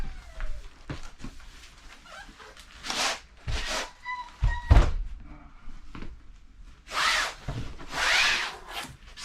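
Interlocking vinyl flooring planks with a hardwood look are pulled apart and popped out, giving close, intermittent rubbing, scraping and plasticky thunks at an irregular pace, with quiet pauses between handling sounds.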